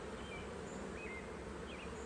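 Honeybees buzz in a steady, continuous drone close by during a beehive inspection in an orchard, with a few individual bees passing near.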